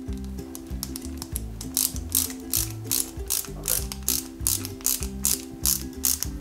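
Small screws are driven with a ratcheting screwdriver into the fire extinguisher parts of a 1/8 scale Citroen C4 WRC 2008 model, with a loud, close, rhythmic ratchet clicking in repeated bursts.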